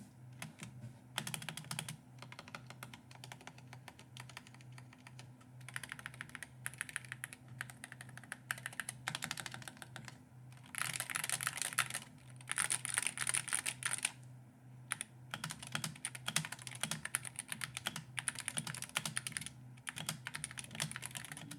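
Steady typing on a SteelSeries Apex Pro TKL 2023 mechanical keyboard, with rapid clacky keystrokes in continuous bursts, close and fairly crisp, with no voices.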